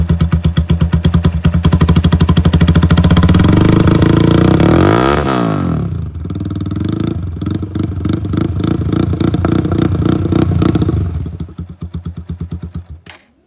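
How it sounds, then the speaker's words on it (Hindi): A TVS Apache RTR 160 motorcycle fitted with an Austin Racing exhaust idles with a loud, close, pulsing putter, then revs up hard, with the revs rising and falling before it settles back to idle. "तो एग्जॉस्ट ऑब्वियसली मॉडिफाइड है, ऑस्टिन रेसिंग का एग्जॉस्ट लगा हुआ है यहाँ पे।"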